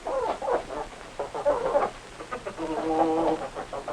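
Several chickens cluck and chatter continuously at close range, with a low background hum underneath.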